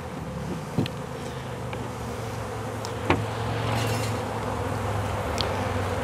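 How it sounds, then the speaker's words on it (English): Honey bees buzz steadily at the front of a hive box as returning foragers gather at the entrance, a continuous close drone with a few sharper passing flights. "you'll notice now a lot of bees are accumulating at the front"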